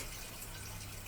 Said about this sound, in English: Sorry about the water, it's fish tank pool.